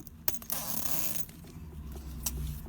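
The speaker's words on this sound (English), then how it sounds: "just give it a little tug, and you can open up the rest of your zipper tape" A zipper is pulled open in one steady rasping stretch lasting about a second, with a couple of small clicks before and after, close and quiet.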